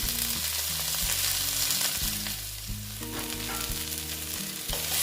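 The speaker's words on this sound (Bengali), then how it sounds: "সবজিটা আমি ভালো মতন ভেজে নিচ্ছি" Vegetables for a vegetarian water spinach dish frying in a pan, a steady close sizzle with occasional stirring scrapes, quiet overall, with a low hum running underneath and no speech.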